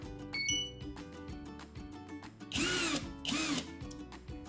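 A WORX power drill fitted with a dust extractor attachment bores into tile in two short, loud whining bursts, with lighter clinks and handling noises around them.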